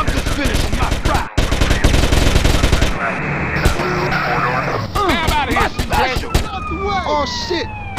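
Rapid bursts of automatic gunfire ring out loud and close during a drive-by in the game GTA San Andreas, followed by wailing police sirens and scattered shots as the shooting continues.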